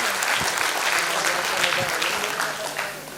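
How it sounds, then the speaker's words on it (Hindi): Audience at a school annual function celebrating its 25th year bursts into loud, sustained applause of many hands clapping, with a voice speaking over the clapping as it gradually thins toward the end. "तो एक बार जोरदार तालियां"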